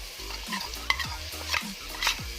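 Processed ham sautés with garlic in a pan, a soft sizzle under repeated scraping strokes of a utensil against the pan, close and fairly quiet, with no voices.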